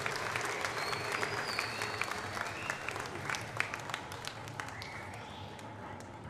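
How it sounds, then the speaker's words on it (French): An audience at the Miss Wallis & Futuna 2020 gala applauds the second runner-up: steady, moderately distant crowd clapping that carries on throughout, with a faint sustained tone in the background. "veuillez l'applaudir encore une fois"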